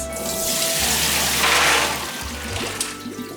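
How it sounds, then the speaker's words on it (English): Soaking water drains off a bowl of soaked beans in a steady rushing pour that swells in the middle, then trails off into lighter splashing and trickling. "The next day, drain the beans."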